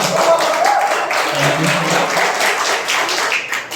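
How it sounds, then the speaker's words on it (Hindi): Applause at an open mic event, a dense wash of clapping from the audience that holds steady and thins slightly near the end, with a brief voice over it. "आप लोग अपने लिए ताली बजा लीजिए एक बार"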